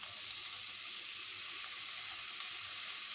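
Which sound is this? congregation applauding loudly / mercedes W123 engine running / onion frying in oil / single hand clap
onion frying in oil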